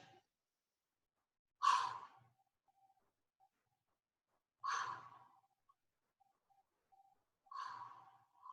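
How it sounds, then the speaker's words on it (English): Three slow, deep exhalations during an overhead stretch, each a breathy sigh-like release spaced about three seconds apart, close and soft against near silence. "Keep that breathing."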